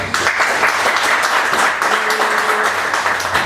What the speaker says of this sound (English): if we could just give David a round of applause